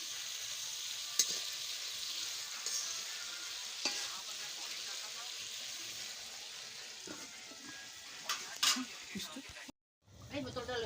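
Chicken curry simmers and sizzles in a pot after fried potatoes are added, making a steady frying hiss with scattered clinks. Near the end a lid goes on, the sound cuts out briefly and then muffled sounds follow.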